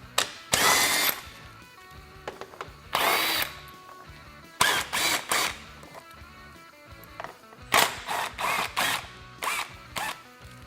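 A power drill backs screws out of the front fascia of a Polaris RZR Pro XP, in several loud, close whirring bursts of about half a second to a second each, separated by short quiet gaps.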